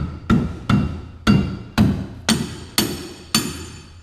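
Sharp metallic hammer blows on a part of a Porsche 944 during an LS engine swap, eight evenly spaced strikes about half a second apart, close and loud, each with a brief ringing decay.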